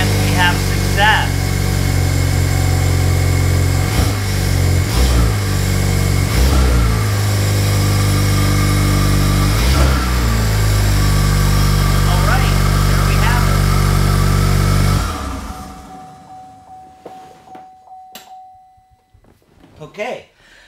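A Saturn Sky Redline's engine runs at a steady, loud idle after being started, then shuts off and the sound trails away into near silence near the end.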